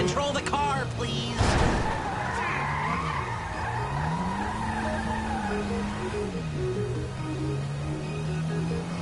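A car in the video game GTA V skids hard, its tires squealing loudly in long wavering howls over a steady engine drone, with a sharp impact-like burst early on and faint voices nearby.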